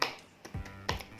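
A few sharp, crisp hand claps sound nearby in a spaced rhythmic "tepuk semangat" cheer pattern during a preschool-style lesson, quiet and isolated with no talk.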